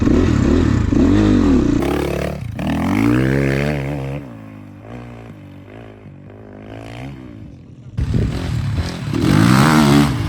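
A Geon GNX 2025 carbureted enduro motorcycle engine idles and revs up and down, rising and falling in pitch at close range, with a few clattering sounds and a sharp burst near the end.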